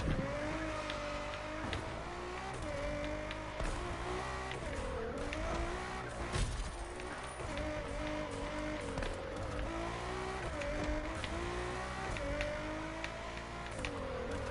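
A car drifts through a mountain touge road in a racing video game, with a continuous loud engine whine rising and falling over squealing tires, sustained without talk.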